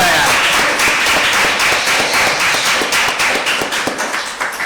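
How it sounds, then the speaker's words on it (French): A church congregation claps loudly and continuously, a thick wash of hands that thins slightly toward the end, with no talk on top. "Applaudissements."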